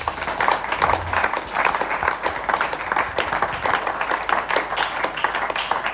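A church congregation applauds together, a steady, dense wash of clapping with a loose rhythmic pulse that fills the room throughout, loud and close with no one speaking over it.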